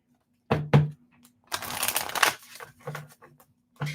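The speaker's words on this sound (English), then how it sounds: "I'm going to shuffle these cards first" A deck of tarot cards is shuffled in quick bursts of riffling and flicking, close and crisp, with short pauses between the bursts and no talking.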